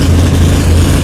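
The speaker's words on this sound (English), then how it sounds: "Right now, you may hear the engine." Drag racing car engine running in the pits at the PDRA World Finals, a steady low-pitched rumble that fills the whole second, loud and close with no talk over it.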